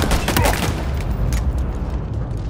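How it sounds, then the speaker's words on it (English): Frag grenade blast and gunfire from Halo Infinite: a loud, dense burst of shots and explosion in the first half second, followed by continuing rumbling battle noise and scattered shots. "Oh, I'm using frag."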